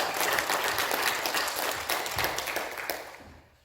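A Sunday worship congregation gives a sustained round of applause, dense and full, holding steady before tapering off at the end.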